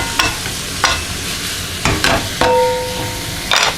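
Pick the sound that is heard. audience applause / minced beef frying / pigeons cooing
minced beef frying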